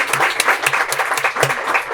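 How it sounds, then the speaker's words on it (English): An audience at a Liberty High School Student of the Year event claps in dense, steady applause, close and loud, with no voices standing out. "let's give them each a great round of applause"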